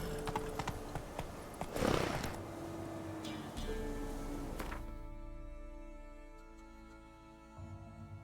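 Roach, Geralt's horse in The Witcher 3 video game, gallops with a steady clip-clop of hooves, fairly close, over ambient game sound that thins out toward the end.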